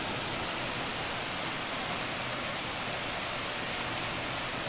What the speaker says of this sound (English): I've never seen rain like this in my life.